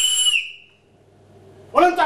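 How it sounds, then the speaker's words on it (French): A high, clear whistle sounds briefly from a speaking tube as someone blows into it, fading out within half a second, followed by a pause and then a voice speaking close up. "Si tu souffles dedans, ça sifflera là-haut."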